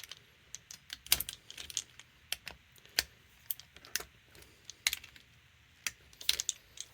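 Small clicks and ticks come from tightening down the screws on a Mopar Holley carburetor, sharp and irregular, close-up and fairly quiet, with short pauses between them.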